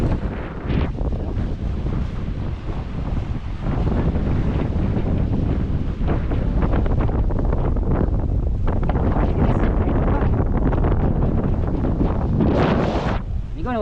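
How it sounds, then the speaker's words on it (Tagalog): Strong wind buffets a boat at sea on the run from Mindoro to Navotas, roaring steadily against the microphone with surging gusts, water wash and occasional voices breaking through the noise. "umpisa na ang hangin"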